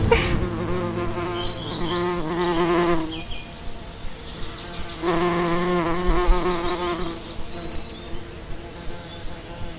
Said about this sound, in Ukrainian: Ті бджілки збирають мед.